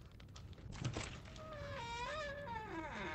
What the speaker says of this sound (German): Da ist eine Tür aufgegangen.